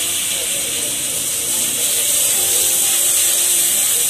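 Tomato dropped into hot oil with fried masala while a lentil-ball kuzhambu is being cooked, giving a steady, loud broadband sizzle and hiss that stays strong and continuous without any talk.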